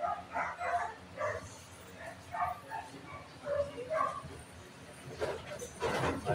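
Dogs bark and yip in short bursts at a small variety store, medium-near and moderately loud, with a few whimpering notes between barks.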